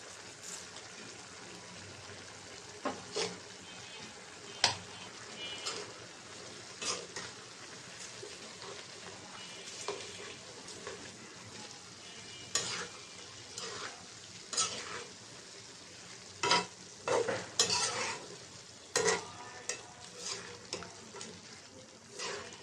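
Potato fry simmering in mustard oil, a soft steady bubbling and sizzle with intermittent louder scrapes and clatters of stirring, fairly faint overall.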